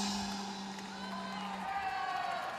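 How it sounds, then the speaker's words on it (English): Crowd noise fills a wushu sanda bout at a world championship, a steady roar of cheering and calls that rises toward the end, with a commentator's voice running over it. "I don't know if you can hear the crowd here, but we're going to be hearing a lot of this"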